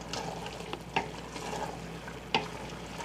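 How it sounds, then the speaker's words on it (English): Andouille sausage and frozen okra being stirred in a jambalaya pot, a steady sizzle with two clear scraping knocks of the spoon against the pot, close up with no talking. "Throw in our okra and give this a stir."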